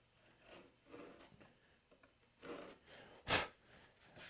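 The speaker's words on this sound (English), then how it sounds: "So I'm just going to come back with a chisel." A chisel pares the wall of a wooden sliding dovetail by hand, giving faint, soft scraping strokes, then one sharper, louder shaving stroke near the end.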